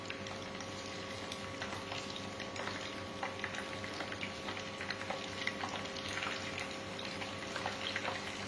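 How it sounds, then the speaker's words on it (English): Paneer fries in a pan, giving a soft, steady sizzle with faint crackles and occasional stirring clatter. The sound is low and continuous and no voice is heard. "I'll get ready my second lot of paneer to fry."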